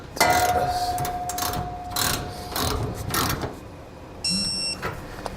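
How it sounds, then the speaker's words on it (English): Ratchet wrench fitted with a 19mm socket tightening the bolts that join the center section to the rear cross member of a B and W Turnoverball underbed gooseneck trailer hitch, giving bursts of close, dry clicking with brief pauses between strokes. "we're going to tighten our center section to our rear cross member. We'll be using a 19mm socket."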